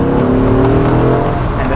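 A 1991 Chevrolet Corvette ZR1 coupe accelerates out of a corner, its engine a loud, steady, continuous drone heard up close with no talk over it.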